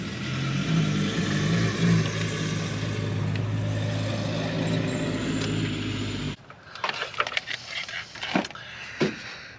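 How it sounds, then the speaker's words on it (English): A mail truck engine runs with a rough, uneven low rumble, fairly close and steady for several seconds, then cuts off, leaving scattered knocks and clatter. "That mail truck sounds rough."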